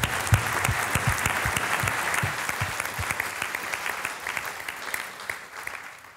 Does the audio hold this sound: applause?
yes